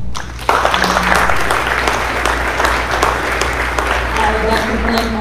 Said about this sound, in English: So I just want to give you guys a round of applause.